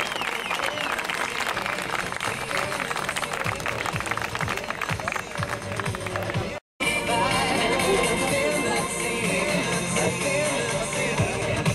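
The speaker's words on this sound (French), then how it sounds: "Un tonnerre d'applaudissements, c'était fantastique, merci, ça nous a fait vraiment plaisir." Crowd applause and cheering at a 2011 jet ski show in Challans, dense and steady throughout with a brief dropout midway, mixed with a busy background din.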